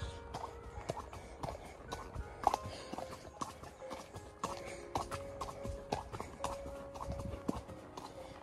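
A horse walks around the cross-country course and paddocks, its hooves clip-clopping in a steady irregular rhythm at close range, with faint background noise and no talk.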